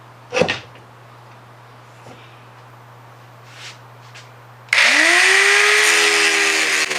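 Angle grinder cutting rivets out of the steel frame of a 1930s sled, starting abruptly after a few faint knocks and a steady hum, then whining loudly and continuously as the disc bites into the metal.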